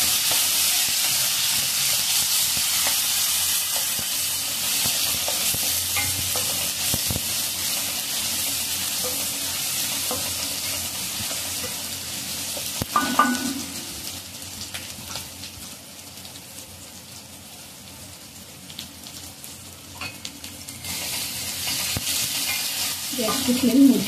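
Chopped onion fries and sizzles in a pan over a high gas flame while being stirred, a steady hiss running throughout with a few scraping stirs and louder bursts near the end.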